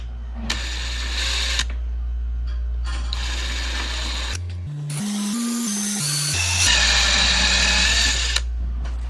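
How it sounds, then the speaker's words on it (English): A power drill drills a pilot hole in a Pfanner Protos helmet, running in bursts, its motor whining up and down in pitch, with brief pauses between runs. "So we're about to drill it."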